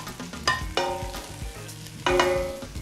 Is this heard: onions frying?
yes